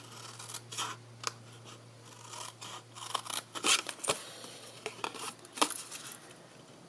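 Scissors snip through the seam of a paper gift box in a series of close, crisp cuts with short pauses between them, set against a faint steady background hum.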